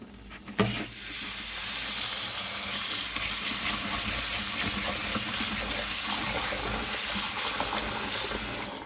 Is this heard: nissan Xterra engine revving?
no